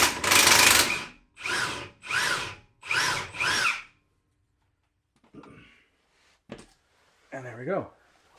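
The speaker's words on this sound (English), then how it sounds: "I'm going to remove that bottom bolt" A Milwaukee power tool removing a bottom bolt gives four loud, close bursts of whirring in quick succession, then stops, followed by faint scattered clicks and metallic handling noises.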